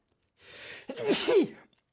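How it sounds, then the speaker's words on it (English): A single close sneeze: a short drawn-in breath, then a sharp, loud burst that trails off quickly. "Gotta sneeze there."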